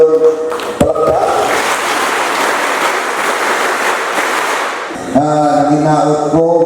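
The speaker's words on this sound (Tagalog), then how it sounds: "palakpak" Crowd applause at a public event in Dinagat Islands, a sustained loud wash of clapping lasting several seconds, with someone speaking into an amplified microphone just before and after.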